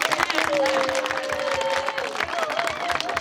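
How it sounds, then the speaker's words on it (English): Children in a female football tournament at a charity event receive a round of crowd applause, a steady patter of clapping and cheering with a voice talking over it. "we should clap for those children"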